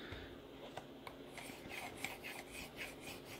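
A knife blade rasps back and forth against a stone held in a Hapstone holder on a Work Sharp Precision Adjust sharpener, light rhythmic strokes, soft and close, with no voices.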